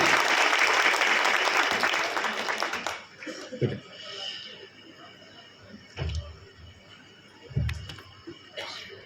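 Audience at a Diwali gathering of a traders' association in Jhabua giving a loud burst of applause that fades after about three seconds, followed by scattered thuds and faint movement.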